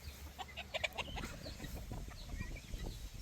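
Chickens cluck softly inside a farm chicken house, a scatter of short calls against a low, muffled background hum.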